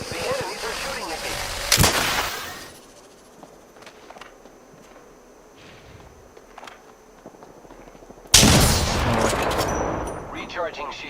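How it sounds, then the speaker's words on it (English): Enemy gunfire in a video game: sharp bursts of shots and blasts, loud at the start and again near the end, with quieter scattered pops and steps in between. "The enemies are shooting at me."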